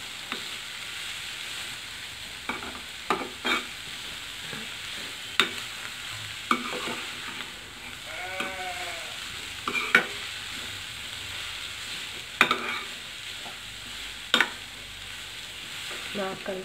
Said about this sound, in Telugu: దీనికి బాగా ఇదంతా పట్టేలాగా మనం బాగా కలపాలండి.